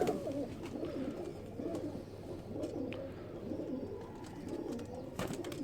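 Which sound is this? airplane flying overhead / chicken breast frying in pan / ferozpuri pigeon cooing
ferozpuri pigeon cooing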